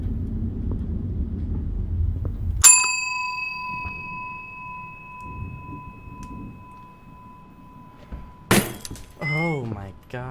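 A lamp smashes in a video game, a sharp breaking crash with a long ringing metallic tone that decays, then a second clanging shatter, with talk murmuring underneath.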